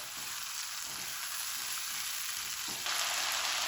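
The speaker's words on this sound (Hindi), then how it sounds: "अब उतनी देर इसको फ्राई करेंगे जितनी देर ये चिकन का कलर ना चेंज हो जाए।" Chicken frying in a pot as the base for haleem, giving a steady, close, continuous sizzle that grows louder and brighter toward the end, with no talking.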